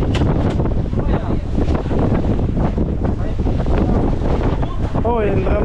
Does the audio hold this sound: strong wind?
yes